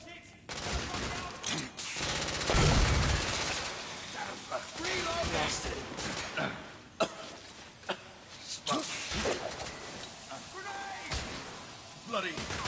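Gunfire in The Order: 1886: rapid bursts and scattered sharp shots in a chaotic firefight, loud volleys mixed with impacts and shouting voices.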